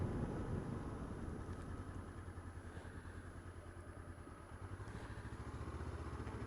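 A Honda CB500X motorcycle pulls away in second gear, its engine note steady and close with a continuous low rumble and a light mechanical clatter, with no talk over it.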